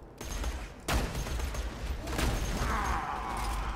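Shotgun fire in Borderlands 2: two heavy blasts about a second apart over dense game noise and rumble, then a bright whooshing effect toward the end, no speech.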